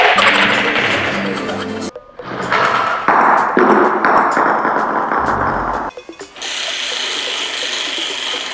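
Automatic catapult built as a real-life Fortress game launcher, its plate snapping forward to fling a small projectile: a sharp thud and mechanical clatter, a brief gap, then whirring mechanism noise close by, with no talk.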